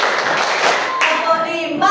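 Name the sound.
class doing counted patterned clapping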